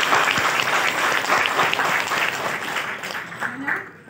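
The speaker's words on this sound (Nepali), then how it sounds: "उहाँलाई एक जोरदारले तालीले स्वागत गरौँ" An audience claps steadily to welcome a speaker at a gathering, a dense, fairly loud burst of many hands that holds for several seconds before thinning and fading toward the end.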